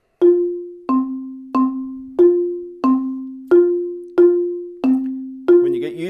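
A mallet keyboard plays an evenly spaced drill of struck bar notes, alternating two neighboring pitches in steady single strokes, each ringing briefly before the next, with a quick double stroke and a voice starting at the very end.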